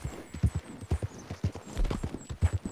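A horse's hooves clip-clop in Red Dead Redemption 2, a steady close rhythm of paired, thudding hoofbeats repeating about twice a second, with a brief whinny-like note mixed in.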